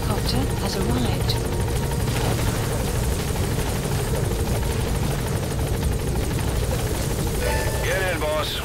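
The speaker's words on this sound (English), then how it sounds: "Helicopter has arrived." Helicopter landing in the video game Metal Gear Solid V: The Phantom Pain, a loud steady rotor drone filling the whole stretch, with a voice talking over it near the end.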